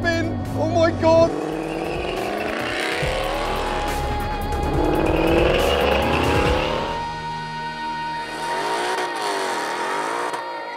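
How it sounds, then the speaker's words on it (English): A supercharged 750hp Roush Mustang spins its wheels at a drag race launch, the engine roaring and revving loud and close with tire squeal, then fading as the car pulls away, with voices underneath. "it's a lot of wheel spin"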